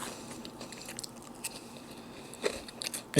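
Someone bites into and chews a crunchy homemade funnel cake close up, giving a string of faint crisp crunches and soft chewing sounds that end with a louder bite.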